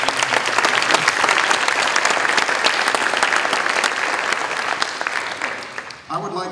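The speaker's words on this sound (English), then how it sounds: "let's give him another big round of applause" A banquet crowd at a college Founder's Day dinner claps loudly for an honoree, sustained applause that fades near the end as a voice starts to speak.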